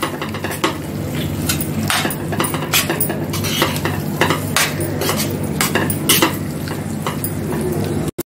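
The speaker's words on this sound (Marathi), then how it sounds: "ते पनीर आता टाकते। ते पण चांगलं मिक्स करते।" Crumbled paneer stirred into cooked onion and tomato in a pan for dhaba-style paneer bhurji, with repeated scraping and clinking of a spoon against metal over a low sizzle, steady and close, no speech.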